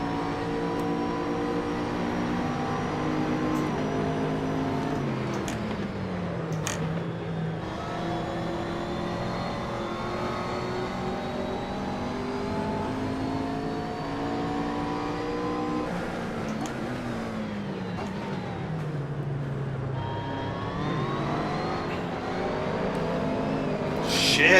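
A race car engine roars in the Assetto Corsa racing game during a Blancpain GT Series race, steady loud revving climbing through gears with pitch sweeps on shifts and braking, continuous and alone without talk.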